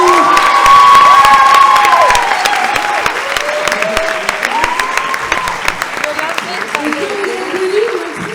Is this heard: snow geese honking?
no